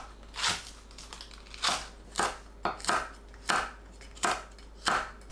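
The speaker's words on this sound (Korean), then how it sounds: "청양고추를 어슷 썰어줍니다." A knife slicing cheongyang chili peppers diagonally on a cutting board: about eight crisp, close chops at an uneven pace, alone with no talking.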